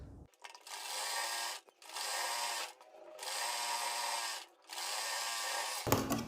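A sewing machine stitches a straight seam on kurti pleats in four steady runs, each a few seconds of loud, close whirring separated by short pauses.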